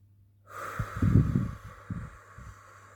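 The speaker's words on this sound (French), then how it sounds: "Longue expiration, courte inspi, longue expi." Slow, audible breaths in a relaxation exercise, a long exhale and a short inhale, soft and close with airy rushing and a faint hum behind.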